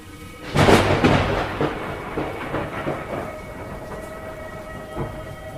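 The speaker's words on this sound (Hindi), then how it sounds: "मूसलाधार बारिश हो रही थी।" A heavy rainstorm in a cartoon, with a loud crack of thunder near the start that fades into a sustained roar of pouring rain and rumbling, no voices.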